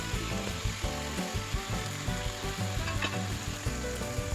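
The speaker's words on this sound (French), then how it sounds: "Les frire ensemble pour que les oignons puissent libérer les arômes." Onions and beef fry together in a pan for beef spaghetti, giving a steady, close sizzle with light stirring scrapes throughout and no talking.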